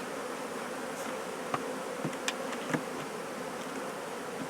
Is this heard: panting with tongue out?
no